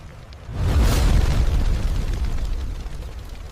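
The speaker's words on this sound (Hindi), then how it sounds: "रात के 1:45 पहला धमाका हुआ।" A single deep, loud explosion booms suddenly in a harbour at night and then rumbles on, slowly fading into a low roar.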